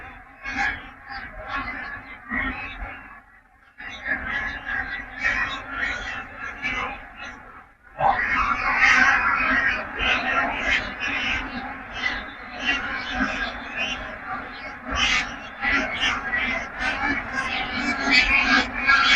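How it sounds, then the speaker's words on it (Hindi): Migratory bar-headed geese calling over Gharana wetland in Jammu, a dense chorus of honking calls from many birds landing, louder after a brief lull, with someone talking over the flock. "आवाज आप इन पक्षियों की सुन सकते हैं।"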